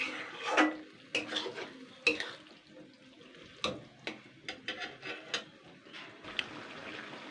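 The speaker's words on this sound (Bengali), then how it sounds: "মাছের তেলটাকে একটুখানি মশলাটা দিয়ে কষিয়ে নেবো।" Fish oil sautéing with spices in a pan: quiet, scattered clinks and scrapes of a utensil against the pan over a faint background sizzle, no talking.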